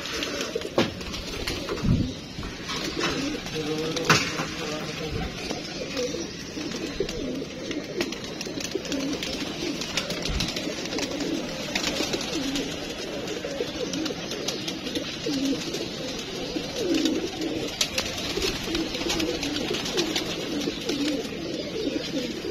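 Pigeons coo steadily throughout, layered soft throaty calls from several birds close by, with faint rustling and handling noises underneath.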